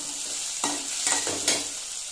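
Sliced onions and a slit green chilli fry in oil for Chettinad egg curry, a soft constant sizzle with three brief scraping stirs, near and quiet, no voices.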